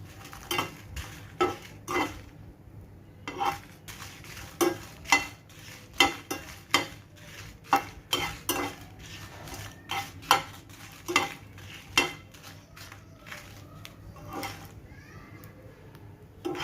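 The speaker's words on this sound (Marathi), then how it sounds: "इथे आपण पंधरा ते सोळा मिरच्या भाजून घेत आहोत" Green chillies, fifteen or sixteen of them, dry-roasting in a pan, giving a steady run of sharp clinks and scrapes from stirring against the metal over a low background hiss, with no talk.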